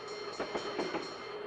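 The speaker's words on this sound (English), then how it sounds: "What I have here is the train" Train sound effect played from an electronic music keyboard during a virtual music class, a synthesized rumbling with rhythmic clickety-clack pulses, steady and moderately loud with no talking.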